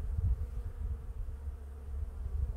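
Honey bees buzz steadily and close during an inspection of Hive 6 in March, a dense low drone that swells and dips without break and with no voices.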